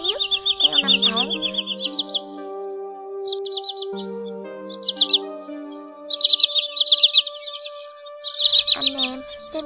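A common greenshank calls in a series of clear, ringing whistled notes in quick repeated bursts, with sustained tonal calls from other birds layered underneath, close and loud against a quiet background.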